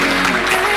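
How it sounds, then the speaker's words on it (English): A panel discussion audience breaks into applause, a brief burst of dense clapping from a crowd, loud and close. "Can we give our panel an applause?"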